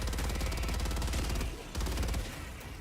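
Rapid automatic gunfire in a video game, a loud continuous stream of shots with a short pause partway through, no talking.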